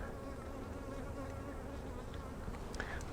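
Honey bees hum steadily in an open, queenless hive during a frame inspection, a close, continuous buzzing with individual bees droning past the microphone.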